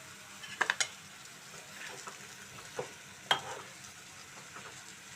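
Brinjal pieces fry gently in a spiced pan over a low flame, giving a soft continuous sizzle punctuated by a few sharp clinks and scrapes of a stirring spoon.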